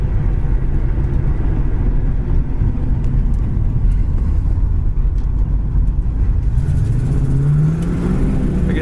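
A 1973 AMC AMX being driven, with a steady low engine drone and road roar throughout, the engine note rising near the end as it accelerates.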